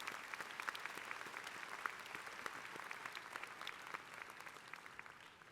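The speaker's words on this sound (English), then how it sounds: "Let's give them a round of applause" A law school commencement audience applauds in a large hall, with dense, steady clapping that fades slightly toward the end and has no voices over it.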